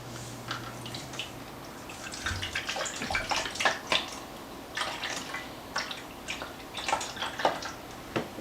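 Chicken broth, measured out as two thirds of a cup for a pork chop casserole sauce, is poured into a bowl, giving irregular splashing and trickling liquid sounds with small drips, close and fairly quiet, with no talk.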